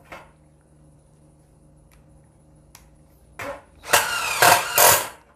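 A Mollar 12 volt impact driver, model CIDR12150U, drives into wood after a few faint clicks, breaking into loud hammering bursts that rise and pulse in three surges, close and with no talk.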